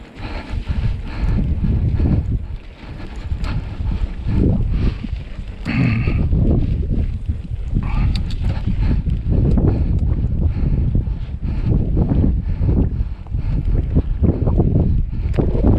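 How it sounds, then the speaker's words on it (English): Wind roars steadily across the microphone on an outdoor riding trail, a loud, rough rush with gusty swells and occasional thumps. "it's a little bit windy and whatnot"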